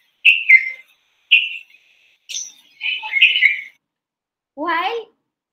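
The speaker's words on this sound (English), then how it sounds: "you have the red-vented bulbul, and hear the call of it. It's a two double whistle." A clear, close red-vented bulbul call of repeated whistled phrases, short bright notes in twos with pauses between, followed by a lower warbling note.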